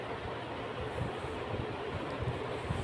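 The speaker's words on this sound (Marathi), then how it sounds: "त्यानंतर इथे टॉय ट्रेन आहे." A toy train runs at a Kerala tourist spot, heard as a steady low rumble of rolling wheels with faint rattling, continuous and fairly even throughout.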